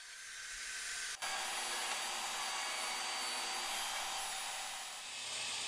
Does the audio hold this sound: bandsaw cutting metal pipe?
yes